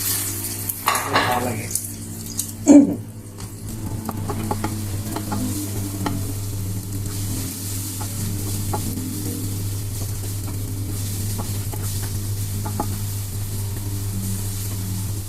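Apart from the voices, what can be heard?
onions frying and being stirred in a pan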